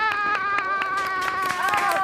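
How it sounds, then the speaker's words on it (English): Schoolchildren clapping, stamping their feet and cheering for their teacher, a busy run of claps and thumps under loud, high excited voices. "should we give one last massive round of applause, stamp our feet and cheer for Miss Verity"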